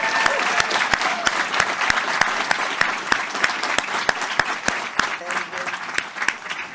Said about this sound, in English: please another big round of applause for our graduates